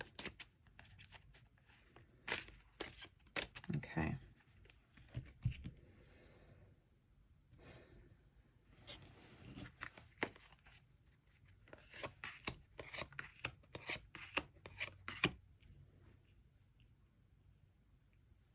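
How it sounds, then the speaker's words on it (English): Quick, crisp tarot card riffles and soft slapping taps in short bursts, close and quiet, with a single brief word spoken. "A quick little shuffle."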